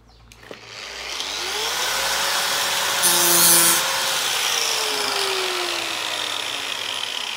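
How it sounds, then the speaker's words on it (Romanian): Power saw cutting off excess material on a caravan step repair, a loud steady whine rising as it bites in and holding for several seconds before easing off, close and alone. "Mă apuc să tai surplusul."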